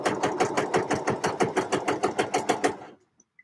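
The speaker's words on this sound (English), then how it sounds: "And just lots of long lines of top stitching now." A sewing machine runs steadily while top stitching a knit project, a rapid, even run of needle strokes up close that stops abruptly near the end, leaving near silence with a couple of faint ticks.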